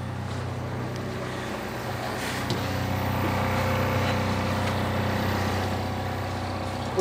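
Steady inboard motor of a traditional sailing ship, a continuous low droning hum with faint water wash, running evenly and fairly close throughout.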